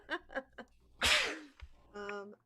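A single sharp, breathy sneeze bursts out among people talking and chuckling during a comedy show, with voiced sounds just before and after it.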